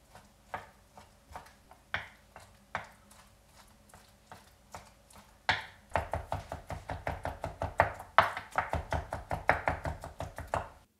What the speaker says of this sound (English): we're going to chop this up, and not so much down to a paste